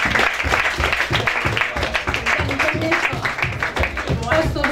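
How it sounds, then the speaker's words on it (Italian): Applause for guest Fiammetta Fiorito on a Roma–Lazio derby aperitivo show, clapping in the studio mixed with voices talking over it throughout. "Metta Fiorito, un applauso."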